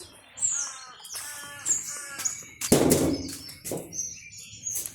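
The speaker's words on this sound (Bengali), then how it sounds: "এখনই ছেড়ে দেবো কবুতরগুলো। সব কবুতরগুলো বের হইতেছে এক এক করে।" Racing pigeons leave a flying loft at dawn one by one, giving a burst of wing flapping amid scattered chirps, caw-like calls and calling from nearby birds.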